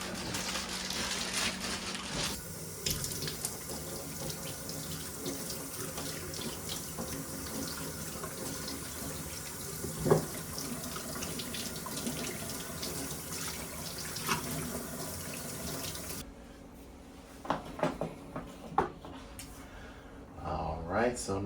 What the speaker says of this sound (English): let's go wash our produce and let's get started